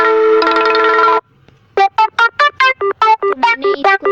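A mobile phone plays its ringtones loudly and up close: first a sustained chiming tone, then after a short pause a quick run of bright, melodic electronic notes.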